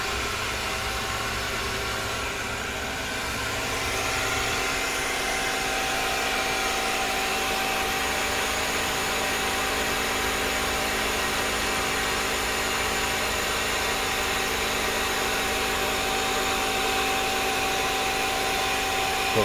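A Mazak CNC lathe runs its spinning chuck during an OD circle milling cycle with chamfer, producing a constant, loud machine whir with a steady tonal hum under broadband noise and no talk.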